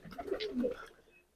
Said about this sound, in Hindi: तो ये दाना खाते हुए सारे कबूतर मेरे,